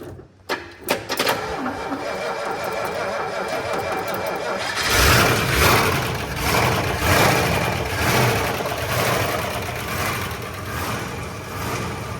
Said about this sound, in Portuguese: Esse é um motor Hemi de primeira geração.